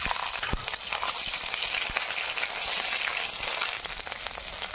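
Bay leaves, dried red chili, whole cumin and ginger paste fry in hot oil as a tempering for a village-style paneer dish, making a steady, close, crackling sizzle with scattered pops and no talk.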